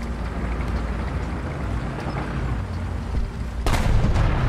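A T95 tank cannon in War Thunder booms once near the end, a loud broadband blast standing out from a steady low engine rumble and background battlefield noise.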